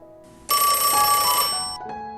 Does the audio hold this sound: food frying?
no